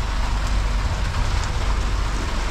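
Steady rain falls at a houseboat camp, a dense, even hiss of drops with a low rumble underneath, constant and close throughout with no voices.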